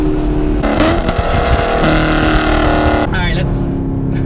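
Chevrolet Camaro SS exhaust revving hard inside a tunnel, a loud, close, echoing engine roar that climbs and drops through several throttle blips over about four seconds, with voices talking over it.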